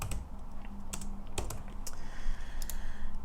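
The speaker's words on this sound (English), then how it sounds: "I'm going to type in Hangry Print because" Typing on a computer keyboard while a shop name is entered, a run of quick, irregular key clicks up close over a low steady hum, with no talking.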